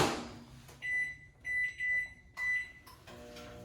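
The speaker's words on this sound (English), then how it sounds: "I'm gonna put it in the microwave for about 6 minutes." A microwave oven hums steadily with a low drone, punctuated by several short, bright electronic beeps spaced across a few seconds.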